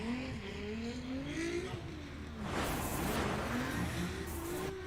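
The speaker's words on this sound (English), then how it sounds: "All right, Sorensen is the next car." A Formula Drift Pro knockout qualifying run at the 2023 St. Louis round: a drift car's engine revs and wavers loudly, then a burst of tire squeal and skidding swells in the middle and holds, with no talk.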